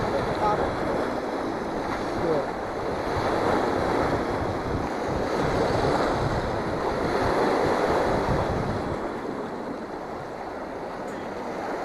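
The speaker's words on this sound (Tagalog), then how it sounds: "Ang lakas ng agos." Strong current of the Columbia River near Bonneville Dam, a steady broad rushing roar mixed with wind buffeting the microphone, continuous and loud throughout.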